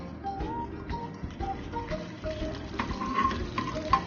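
Butter sizzling in a frying pan while making egg toast, a soft, continuous crackle with light scraping and stirring noises. Close but fairly quiet, with no talking.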